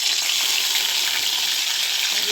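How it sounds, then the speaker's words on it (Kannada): Green chillies, ginger, garlic and curry leaves crackle and sizzle in about two spoons of hot oil for a village-style fried rice tempering, a steady, close, dense frying hiss throughout with no talk. "ನೆಕ್ಸ್ಟು ಹಸಿಮೆಣಸಿನ್ಕಾಯಿ, ಶುಂಠಿ, ಬೆಳ್ಳುಳ್ಳಿ, ಕರಿಬೇವು ಒಗ್ಗರಣೆಗೆ ಹಾಕ್ತಾಯಿದ್ದೀನಿ"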